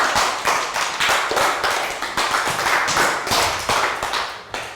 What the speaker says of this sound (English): Round of applause for Bang Bon.